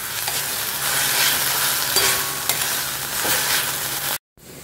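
Onions frying with ginger-garlic paste in a pan over a low gas flame, a steady broadband sizzle with occasional stirring scrapes, loud and close, cutting off abruptly near the end.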